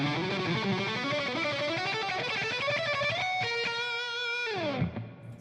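Fast electric guitar lick with distortion played near song tempo, a rapid stream of picked notes in quick runs ending on a sustained note that bends down and cuts off, close and alone.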